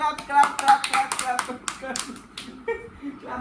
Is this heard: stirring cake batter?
no